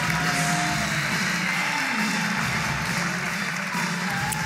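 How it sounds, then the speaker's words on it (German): A boxing arena crowd applauds boxer Issa Isakov, a steady, distant wash of clapping and crowd noise filling the hall without pause. "Ihr Applaus für Isa Isakov!"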